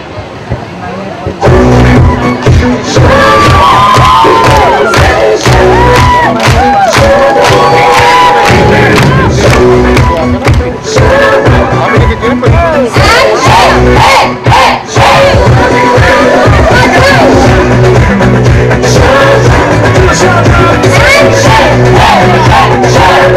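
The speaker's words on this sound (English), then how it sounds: "I want to hear everyone with their hands up and everyone shouting" A large crowd at an autism awareness walk shouts and cheers loudly with raised hands. The wall of voices is close, dense and sustained, with rhythmic bursts of yelling throughout.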